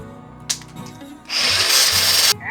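A power tool cuts metal on a turbocharged Jeep, starting after a brief clatter and running as a loud, steady, close-up buzz for about a second before stopping abruptly.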